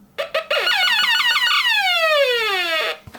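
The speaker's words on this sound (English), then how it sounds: "anything that passes this sensor will set off an alarm." A GoBots Renegade HQ toy's sensor alarm blares an electronic warble: a few stuttering beeps, then a loud descending siren-like sweep lasting a couple of seconds.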